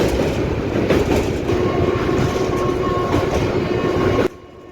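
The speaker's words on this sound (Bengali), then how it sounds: "জাস্ট উল্টো দিক থেকে একটা মালগাড়ি ক্রস করছে" A goods train passes from the opposite direction alongside a moving passenger train, a loud, continuous close rumble and rattle of wagons that cuts off abruptly near the end, leaving quieter running noise.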